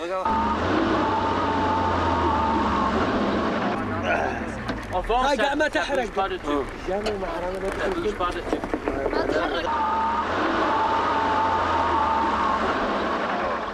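A stuck car revs with its wheels spinning for traction, a loud steady engine drone at the start and end, broken in the middle by people talking and shouting over a rougher, fluctuating engine.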